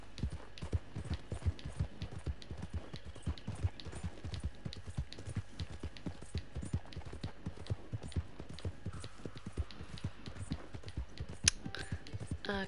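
Horse hooves in the video game Red Dead Redemption 2 clip-clop steadily at a trotting pace for several seconds, a continuous rhythmic clatter at moderate volume with no voices.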